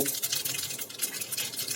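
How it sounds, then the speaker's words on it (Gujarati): Mustard seeds and whole cumin crackling in hot oil while tempering Kathiyawadi wedding-style dal, a steady close sizzle with dense popping and spattering throughout, no voices. "હવે તેનો વઘાર કરી લઈએ થોડી રઈ ઉમેરી દઈએ"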